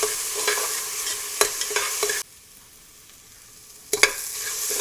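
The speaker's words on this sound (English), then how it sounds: "I'm going to saute this onion properly until it changes its color. I'm going to continue to saute the onions." Onion sautéing in a pan for lamb vindaloo makes a close sizzle with spatula stirs, cuts out abruptly to near silence midway, then resumes with a couple of scraping knocks.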